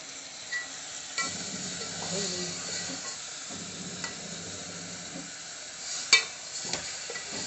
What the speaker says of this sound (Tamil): சிக்கன் ஆட் பண்ணிக்கலாம் இதை நல்லா மிக்ஸ் பண்ணிக்கலாம்